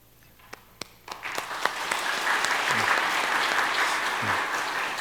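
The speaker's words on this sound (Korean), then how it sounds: "잠깐 자리에서 일어나실 때 우리 박수로 축하하겠습니다." A church congregation claps during a Sunday service to congratulate newlyweds. It starts with a few scattered claps, then swells into full, sustained applause that fills the sanctuary.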